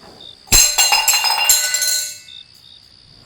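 A drinking glass thrown down and smashing in a sharp, bright crash, followed by a second impact and a scatter of tinkling shards that ring out and fade over a couple of seconds, with a faint high insect-like tone before and after.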